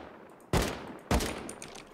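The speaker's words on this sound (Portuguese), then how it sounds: "Eu tô atirando bala explosiva" Two sharp explosive-ammo gunshots fired in the video game Rust, spaced about half a second apart, each a loud broadband blast with a short decaying tail over faint background noise.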